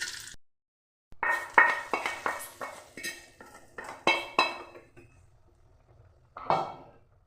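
Dry chillies and five-spice seeds are tempered in a spoonful of ghee in a wok for khichuri, with a rapid series of clinks, scrapes and stirring knocks after a short pause, close and fairly loud.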